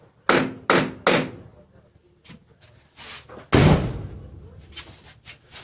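Car passenger door latch shutting: three sharp, close metallic clunks in quick succession, then softer knocks and one more loud slam with a rattling tail.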